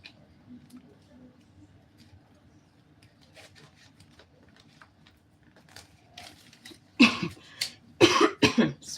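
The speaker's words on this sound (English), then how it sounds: "Sorry, I have flu and cough." Several loud coughs burst out near the end, a cluster of harsh bursts after a stretch of quiet room noise with faint taps, from someone with flu during a shirt-dress cutting session.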